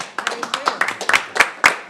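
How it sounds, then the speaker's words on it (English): A small gathering claps after a city council special meeting is adjourned, producing a sparse run of separate, close handclaps with uneven rhythm, with talk faintly underneath. "I think we should give them a round of applause"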